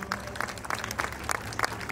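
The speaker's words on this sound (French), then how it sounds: "Vous pouvez les applaudir, s'il vous plaît," An outdoor crowd at a classic car concours d'élégance in Clermont-Ferrand applauds in scattered, uneven claps, with a faint background voice.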